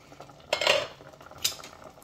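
A utensil stirs fish in a cooking pot, giving two distinct metallic scrapes and clinks about a second apart over a quiet kitchen background.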